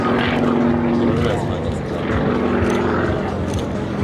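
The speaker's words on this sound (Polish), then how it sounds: "W tym momencie ten samolot już się prawie zatrzymał, wisi na silniku i w dalszym ciągu zachowuje sterowność." A propeller airplane's piston engine drones steadily during a fully vertical aerobatic climb at an air show, the aircraft nearly hanging on its prop, with a fluctuating buzzing tone and ambient crowd and wind noise throughout.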